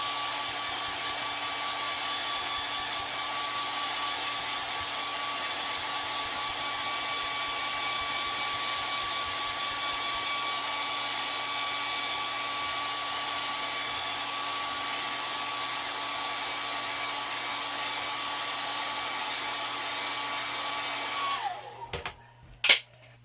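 A steady, loud whine of a hair dryer drying paint on an art postcard, running continuously at close range, then clicking off near the end.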